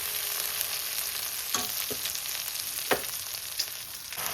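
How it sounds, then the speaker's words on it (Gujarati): Ginger, chili and garlic fry in hot ghee while being stirred, giving a steady close sizzle broken by a few sharp scraping clicks from the spoon, with no talking. "બરાબર હલાવવાનું."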